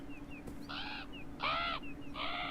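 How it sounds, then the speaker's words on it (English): Crows caw in the video game Beyond Eyes, three harsh calls spaced across the clip at moderate distance over a steady ambient hum, with faint bird chirps between them. "Crows, okay."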